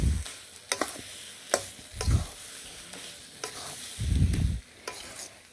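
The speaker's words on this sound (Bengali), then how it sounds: "তো আর একটু নাড়াচাড়া করে নামিয়ে নেব।" Cumin spice mix stirred in a frying pan with a spatula, scraping and knocking in a few irregular strokes over a faint sizzle, with one longer low rumbling scrape near the end; no talking.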